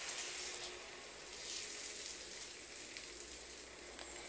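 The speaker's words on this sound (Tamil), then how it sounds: "இப்போ நம்ம தோசையை நல்லா கலக்கி விட்டுட்டு இப்போ தோசை ஊற்றலாம்" Dosa batter poured onto a hot pan for a quick instant tiffin gives a steady, faint sizzle and hiss that swells and eases in waves, with no voices.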